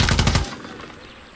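Suppressed gun in Far Cry 6 firing a quick rapid burst of about six muffled shots, loud and close, then cutting off into a fading tail.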